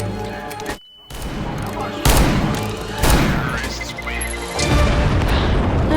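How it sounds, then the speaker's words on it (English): A flashbang grenade goes off in Counter-Strike: Global Offensive on the Dust II map: a sharp cut to near-silence, then sudden loud booming bursts and ringing, with someone speaking over the game sound. "flashbang."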